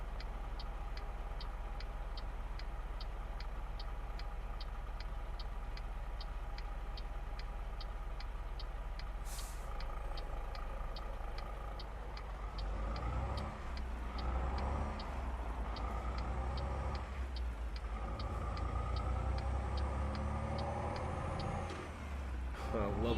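A truck's engine drones steadily in American Truck Simulator, played in VR while driving through traffic in Denver, Colorado. A rhythmic turn-signal tick runs over it, and the engine swells louder and rougher in the second half.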